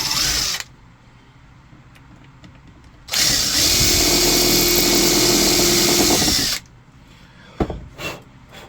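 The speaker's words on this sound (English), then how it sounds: "got the first holes drilled" Power drill boring holes: a short burst at the start, then a loud steady whir of about three seconds, close up, followed by quieter clicks and handling sounds.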